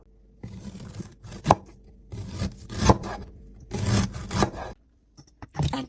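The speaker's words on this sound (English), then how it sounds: "Slice 4 pieces of ginger." A kitchen knife slicing fresh ginger into four pieces on a cutting board, heard as several short bursts of crisp cutting and scraping separated by quiet gaps, close and clear.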